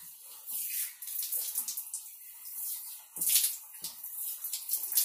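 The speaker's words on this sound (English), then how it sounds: "the hose just rinses off" Water from a shower hose rinses over a shower wall, hissing and splashing in uneven surges with brief gurgles, fairly soft and close.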